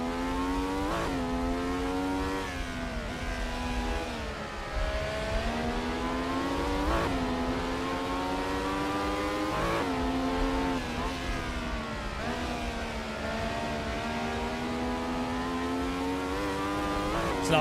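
A race car engine in Assetto Corsa revving through a lap, its whining tone climbing steadily through each gear then dropping sharply at every shift in a repeating rhythm, loud and continuous with no talk.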